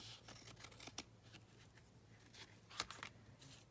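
Scissors trim paper for a Halloween junk journal in several quiet, close snips at an irregular pace. One crisper cut stands out near the end, and no one speaks.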